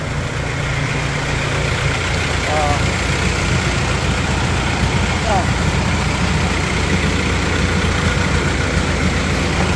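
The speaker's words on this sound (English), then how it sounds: "So I think now I'm gonna take out this red tractor" A tractor engine runs at a steady idle, loud and close, a constant low chugging rumble with faint voices underneath.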